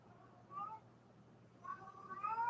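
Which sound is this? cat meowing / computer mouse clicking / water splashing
cat meowing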